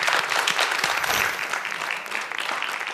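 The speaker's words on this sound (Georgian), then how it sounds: "აპლოდისმენტები." A studio audience at a Georgian television talk show breaks into dense, sustained applause, steady and fairly loud throughout with no talking over it.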